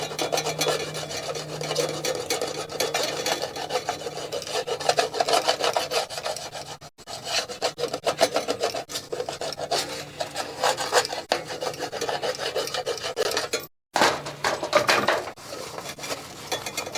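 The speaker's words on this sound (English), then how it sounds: "Looks like we're going to have to scrub it a little bit." Vintage truck camper siding scrubbed by hand after soaking in cleaner: a steady, close, rasping scrub continues for the whole stretch, broken by two very brief pauses.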